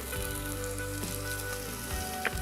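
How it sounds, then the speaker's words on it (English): Onion dropping into a hot pan bursts into a loud, steady sizzle that holds throughout, with a brief clatter near the end. "I'm going to add in some onion."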